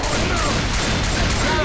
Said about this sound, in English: Why'd you throw a pipe bomb?